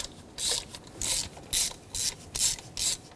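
A ratchet wrench with a spark plug socket loosens a spark plug on a 1995–2004 Toyota Tacoma 2.4L four-cylinder, giving six quick, evenly spaced clicking strokes, close and alone.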